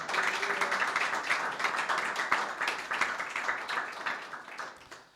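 A church congregation at a Sunday prayer meeting clapping for Jesus Christ, many hands beating a quick, steady rhythm close by for several seconds before it trails off.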